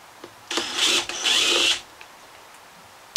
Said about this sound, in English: I'm going to cheat and use my drill, and this is a 5/32 Allen bit